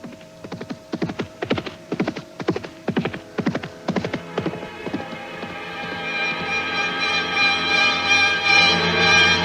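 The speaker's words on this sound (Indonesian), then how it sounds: "Malam yang sepi hanya dipecahkan oleh derap kuda yang ditunggangi Safwan." Horse hoofbeats for a radio drama, a lone rider crossing the desert at night: close, loud rhythmic clip-clop for several seconds, then the hooves stop and a sustained, swelling musical tone takes over.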